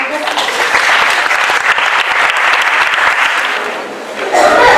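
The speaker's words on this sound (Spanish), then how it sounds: "Un fuerte aplauso, por favor." Audience applause at a university lecture event: dense, sustained clapping from a full room that keeps going for several seconds, eases slightly, then swells again at the end.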